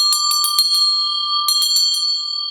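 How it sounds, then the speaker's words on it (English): A Tibetan bell blessed by a monk rings in two clusters of rapid bright strikes, with a long steady shimmering tone sustaining throughout, fairly loud and close with no talking. "I got this bell. It's a Tibetan bell."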